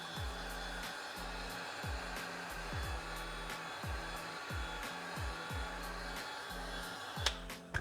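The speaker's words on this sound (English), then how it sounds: "we got our Milwaukee heat gun here, and we're just applying heat to the top of the Tamarit logo" Milwaukee heat gun blowing hot air onto a Triumph motorcycle's logo wrap, a steady close fan-and-air roar with a low motor hum and a rhythmic pulsing thump, ending in a couple of sharp clicks.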